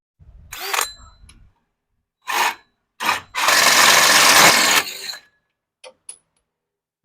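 A power drill whirs in short bursts, then grinds steadily through a metal off-road vehicle frame rail for a couple of seconds before stopping, followed by faint clinks.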